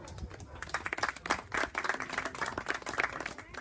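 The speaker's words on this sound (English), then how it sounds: "I must ask to give Antonio Wilson a round of applause." Audience applause at the opening of an organic farm cooperative, a steady patter of many hands clapping at moderate level with some faint voices mixed in.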